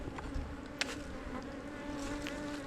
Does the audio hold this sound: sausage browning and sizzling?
no